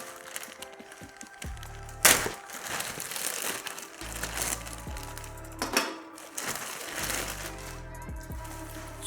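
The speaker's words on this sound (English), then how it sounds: "Let me unbox the package and cut the wrap." Plastic wrap on a phone package is cut and peeled away, giving close crinkling and rustling with a few sharp tearing snaps across the clip, while low background hum sits beneath.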